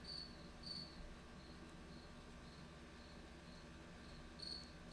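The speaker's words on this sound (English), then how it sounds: "The crickets in the background get me every time." Steady cricket chirps repeat in the background in short regular bursts, faint and continuous over a low hum, with no voices.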